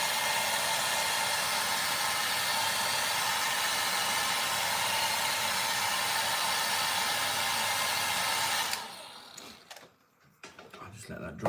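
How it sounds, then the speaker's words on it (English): A hair dryer drying watercolour paint blows with a loud, steady whooshing hum, then switches off, leaving faint handling noises and quiet shuffling. "When you use the hairdryer, it dries your paint beautifully"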